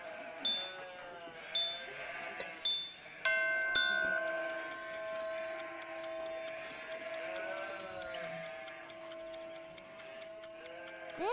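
Sheep bleat in a short series of separate calls at the start, followed by a steady ticking and sustained musical tones, as in an animated children's show.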